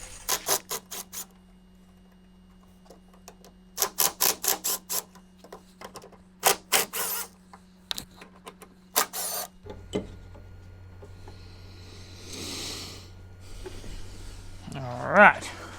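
A faulty windscreen wiper motor on an 80 Series Land Cruiser runs in bursts of rapid, rattly clicking and grinding, stopping and restarting several times, with a steady hum underneath and a few words spoken near the end.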